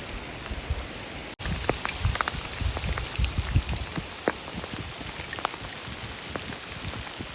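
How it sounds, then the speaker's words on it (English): Dense pattering of hail striking surfaces during an elk hunt in northern Utah, a constant close clatter with scattered sharper hits, no voices. "And now here comes the hail"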